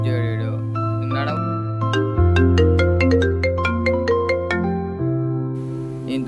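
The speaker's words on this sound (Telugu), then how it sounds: "అరే వీడు ఏందిరా మళ్ళీ ఫోన్ చేస్తుండేంద్రా నాయన?" A mobile phone ringtone plays as a loud, close melodic electronic tune of repeating stepped notes, continuing for several seconds with a voice briefly heard under it.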